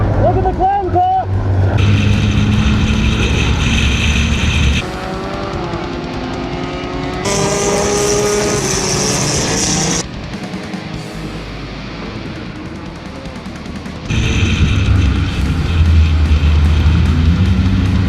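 Race cars roar around an enduro track during a nighttime demolition-style race, engines loud and close with shifting pitches as cars pass, while voices talk over the din throughout.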